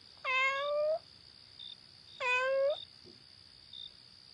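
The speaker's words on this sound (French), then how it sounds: "le chat le plus amical qui lui dit, dans la langue des chats, « Miaou" A friendly cat gives two clear, close meows about two seconds apart, each rising then falling, over a faint steady high background whine with small clicks between.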